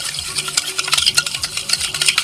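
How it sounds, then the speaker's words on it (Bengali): A spoon stirs saffron lassi in a vessel, making quick rhythmic swishing and clinking strokes, close and continuous over a couple of seconds, with no voices. "ভালো করে মিশিয়ে নেব"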